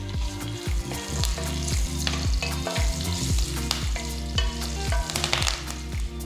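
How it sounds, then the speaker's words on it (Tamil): Mustard seeds, asafoetida and fresh curry leaves fry in hot oil for a tempering, a loud, steady sizzle with rapid crackling and popping and the occasional scrape of stirring throughout. "கடுகு பொறிஞ்சதும் கொஞ்சம் பெருங்காயத்தூள் கொஞ்சம் ஃப்ரெஷ்ஷான கருவேப்பிலையை சேர்த்து வறுத்துக்கலாம்"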